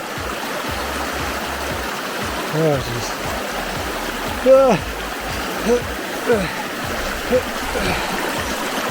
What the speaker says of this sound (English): oh boy, another river crossing. Well, stream.